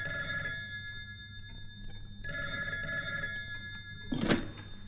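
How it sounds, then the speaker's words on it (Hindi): A telephone rings in a home. Its bursts of tonal ringing repeat with a short pause between them, and a thump near the end sounds like the receiver being picked up. "हाँ जरा फोन लीजिए।"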